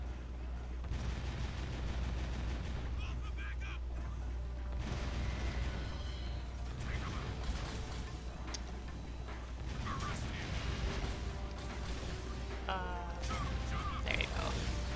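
Rail-shooting gunfire in the Jak 2 video game, with bursts of shots and mechanical clanks repeating over a constant low rumble, and a voice talking at times.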